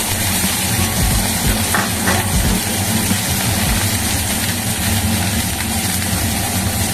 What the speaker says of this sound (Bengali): আর ছোটো পেঁয়াজ আমি এগুলো সব ভেজে নিচ্ছি